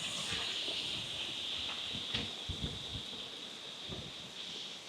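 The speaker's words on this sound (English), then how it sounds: "that wind is kicking" Strong wind blows outdoors at a modern custom home, a steady broad hiss with low gusty rumbles buffeting close by, no talk.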